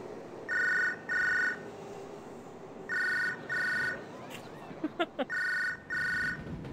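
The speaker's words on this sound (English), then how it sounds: "I want to answer this phone. Oh, now it stopped ringing." A telephone rings in three pairs of bright double trills, each pair separated by pauses, with brief clattering sounds between the later rings in a quiet room.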